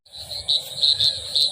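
Crickets chirp at dusk outdoors on a cloudy evening, a loud close pulsing trill in quick repeated bursts with a faint low background murmur beneath.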